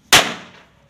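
A homemade mini firecracker bomb struck on the ground explodes in one sharp, loud, close bang, with a short fading tail and then quiet.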